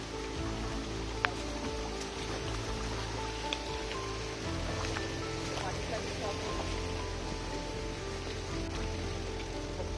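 A main forest stream in monsoon-season jungle rushes steadily, a dense, even wash of flowing water with no breaks, heard close by along the Panhala to Vishalgad trekking route.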